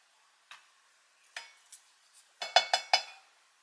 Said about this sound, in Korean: 먼저 피넛버터를 티스푼으로 2 스푼 정도 넣어줍니다.